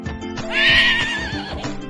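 A horse gives a single loud, high whinny that rises and shakes for about a second, with soft hoof clip-clops and a low rhythmic backing underneath.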